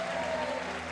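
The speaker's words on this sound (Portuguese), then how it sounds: "dá o melhor salva de palmas que você puder" A church congregation claps together in a brief, steady burst of applause, even in level and heard without any voices over it.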